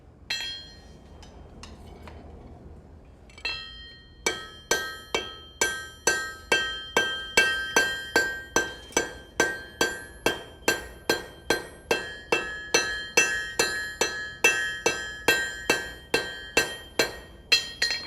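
Metal hammered on a woodworking tenon in a long, steady series of sharp ringing strikes, about two per second, loud and close, preceded by a few lighter taps and no talk.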